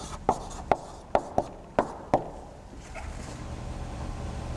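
Chalk tapping and scraping on a board during a calculus lecture, six sharp strokes in a quick uneven rhythm over the first two seconds, then quiet room tone.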